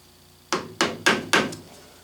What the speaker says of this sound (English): with a scratch awl or a center punch, whatever you got